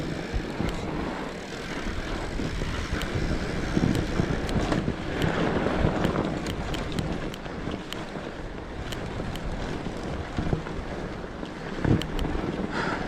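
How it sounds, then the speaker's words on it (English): Steady wind roaring across the microphone during a winter fat bike ride on the Dragon Trail, a constant loud buffeting rush with small gusty swells and no talking. "Definitely some wind out of the south."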